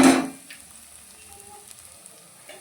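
Okra (bhindi) frying in a pan after chilli powder is added, starting with a loud sizzle that quickly fades into a soft, steady crackle with light scattered pops.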